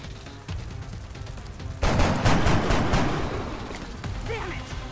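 Sudden, loud volley of gunfire erupts in the turn-based alien-invasion game X-Com, a dense rattling fusillade that decays slowly, with a faint game voice and electronic tones afterward.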